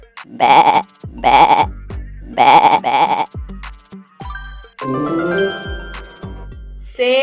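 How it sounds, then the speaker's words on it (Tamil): A sheep gives four loud, close, quavering bleats at even intervals, then a run of bright bell-like chimes and tinkling tones rings out. "செம்பரி ஆடு"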